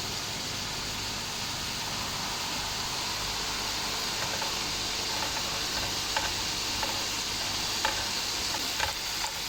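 Cooking oil sizzles softly on a low flame, the same oil used for chicken Afghani boti, giving a faint, steady hiss with a few light clicks and ticks scattered through it.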